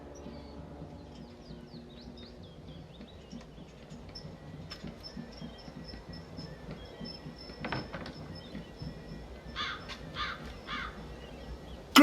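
A black raven, a witch's companion in the video game Dreamfall Chapters, caws in a string of short calls over a low ambient game bed, with a few brighter bursts near the end.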